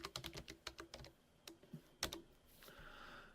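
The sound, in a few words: typing on a computer keyboard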